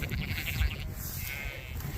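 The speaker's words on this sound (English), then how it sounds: "The sheep are gonna go this direction," Sheep bleat close by on a pasture, a couple of wavering cries overlapping in a short burst with some wind and rustle underneath.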